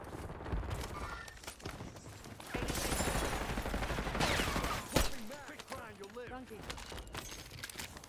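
Gunfire in Warzone, a dense loud volley in the middle of the stretch with a sharp single crack after it, among game sounds, with people talking over it.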